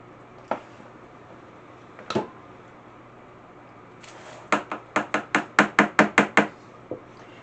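Fruit cake batter being spooned into a baking pan, heard as a few scattered knocks followed by a quick run of about a dozen sharp, close spoon taps against the pan, with no talk.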